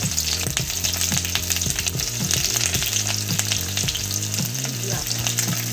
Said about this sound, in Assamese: এতিয়া মই এয়া পিঁয়াজ কাটি লোৱা পিঁয়াজটো দি দিছোঁ আৰু এয়া নহৰু খুন্দি লোৱা নহৰু